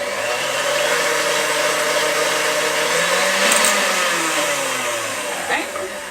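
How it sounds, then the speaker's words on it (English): A stand mixer with a whisk attachment beats egg whites and sugar on high speed, a loud steady motor whine that dips slightly in pitch partway through, continuous and close, with no voices. "I'm going to put those in the mixer with the whisk and beat on high until we get stiff peaks"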